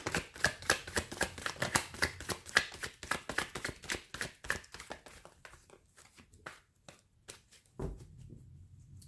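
Tarot cards are shuffled by hand in quick, rhythmic riffling bursts, close and crisp, gradually slowing and thinning out before a soft thump near the end.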